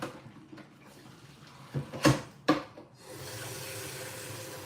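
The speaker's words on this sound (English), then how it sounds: "That is me putting the tap water into the pot with the eggs." Cold tap water pouring into a pot of freshly boiled eggs, a steady close-up rush of running water with a couple of sharper splashes and knocks before settling into a continuous flow.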